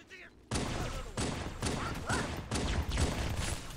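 Pistol shots ring out in the video game Halo 2 Anniversary as a loud burst of repeated cracks and thuds, roughly regular, amid heavy battle noise.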